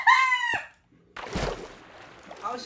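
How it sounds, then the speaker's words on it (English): A chicken in the Minecraft video game gives a short, loud clucking call, then a soft thump and quiet game ambience follow, with no talking. "Oh shit, I found a chicken."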